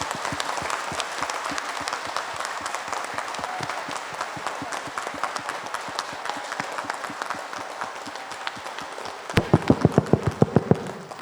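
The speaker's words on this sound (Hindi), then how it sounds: "Round of applause." An audience at a motivational talk applauds in a steady, dense patter of clapping that grows louder and more rhythmic near the end.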